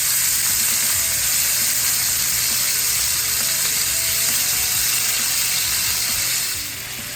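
A steak sears in butter in a hot frying pan, giving a loud, steady, close-up hiss and crackle that runs continuously and drops slightly in level at the very end.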